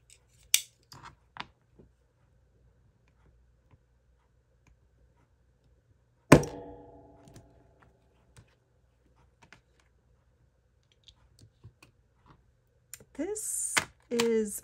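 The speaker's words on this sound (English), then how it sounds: "This time, being smarter and cutting on my cutting mat." Craft material is cut on a cutting mat with sharp, isolated snips and clicks spread across a mostly quiet stretch, one louder crunching cut midway and some rustling near the end.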